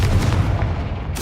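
A Confringo spell blast in Hogwarts Legacy goes off as a single loud, booming burst with a rumbling low tail, fading briefly before a fresh rush of sound at the very end.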